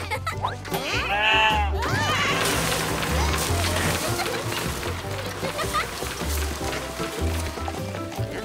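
Sheep bleat near the start over a continuous, busy background of rustling and movement, with occasional voices mixed in.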